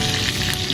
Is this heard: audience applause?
no